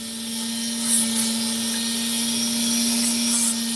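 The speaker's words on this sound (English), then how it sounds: "Sounds very much like a refueling tanker, though." An aerial refueling tanker aircraft gives off a steady droning engine whine with a strong sustained tone and a broad rushing hiss. The sound stays constant and fairly loud throughout, with no talking.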